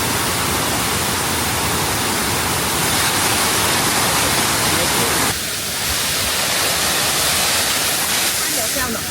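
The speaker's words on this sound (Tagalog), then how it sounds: "Appreciate muna natin yung beauty ng Kuangsi Waterfall ng sabay-sabay" Kuang Si Waterfall in Luang Prabang, Laos roars as a loud, steady broadband rush of falling water, close and constant, with a voice briefly audible.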